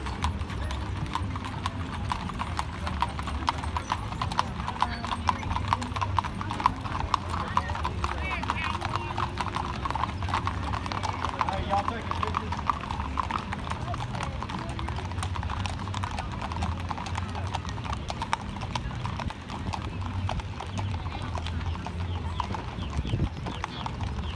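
Horses clip-clop steadily through a small town festival parade, their hooves constant and close, with an occasional neigh and lots of crowd chatter running underneath throughout.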